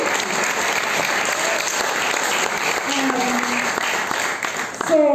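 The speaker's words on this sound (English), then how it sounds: "A round of applause for our panelists." A crowd at a panel discussion on African youth migration to Europe claps steadily for the panelists, the applause dense and even, with a few voices rising just before it ends.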